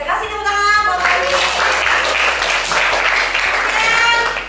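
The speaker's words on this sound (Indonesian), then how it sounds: "Oke, kita kasih tepuk tangan buat Abi." Students in a classroom clap for a group after its presentation, a brief burst of applause that runs under children's voices and chatter, fairly loud and close throughout.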